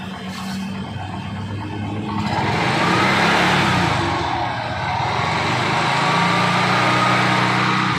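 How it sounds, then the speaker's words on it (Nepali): A vehicle engine being revved as the accelerator is pressed, a loud close roar that rises and holds, then steadies, with no talk over it. "भाइ एक्सिलेटर बढाएर त एकदम राम्रो"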